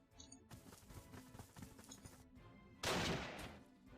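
Artillery fire in the WWII strategy game Panzer Corps 2: a run of muffled, clustered booms builds at moderate level, then one loud broadband blast erupts near the end and decays over about a second.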